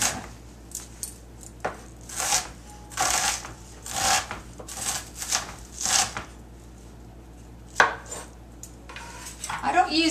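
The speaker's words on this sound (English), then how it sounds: "we're going to put a little bit of diced onion in there" Diced onion is scraped and dropped into a pot of kitchari soup, heard up close as a run of irregular rustling, clattering bursts with a few sharper knocks and no talk.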